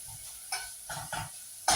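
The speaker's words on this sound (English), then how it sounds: "We are sizzling away." Mince and red onion frying in a home kitchen pan, with steady low sizzling and several louder bursts of stirring or scraping, the last one sharp and close, no talking.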